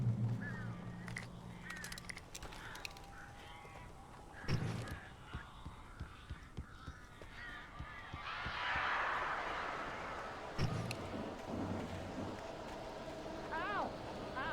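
Crows caw in Alan Wake Remastered, a few harsh calls scattered through a windy, watery ambience, with a rising whoosh midway and a voice speaking at times.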